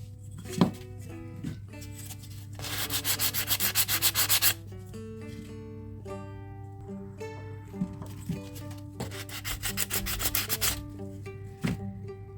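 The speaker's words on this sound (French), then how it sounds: "je ponce un coup d'huile de lin" Close, rhythmic rubbing of sandpaper on a wooden grip of a nickel-plated Gasser revolver with linseed oil, in quick scratchy bursts, over a steady low hum with some faint tonal background sounds.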